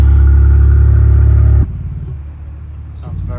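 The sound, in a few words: BMW M240i with new 3D Design exhaust revving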